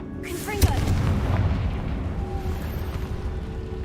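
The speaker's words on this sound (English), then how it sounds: "Confringo." A Confringo fire spell explodes in Hogwarts Legacy, a sudden booming burst followed by a rumbling, crackling tail that fades under steady game ambience.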